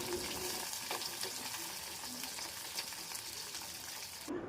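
Chopped jackfruit seeds being fried and stirred in a hot pan: a steady, dense sizzle with faint scraping strokes, close and fairly even throughout, without speech.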